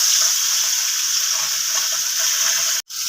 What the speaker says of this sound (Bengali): তো মাছগুলো আমি সুন্দর করে ভেজে নেই।